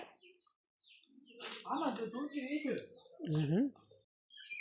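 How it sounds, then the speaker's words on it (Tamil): Birds chirp and coo close by in the morning on an estate, with several calls overlapping, while a person talks over them. "நிறைய பறவைங்க சத்தம் கேட்டுகிட்டே இருக்கும்"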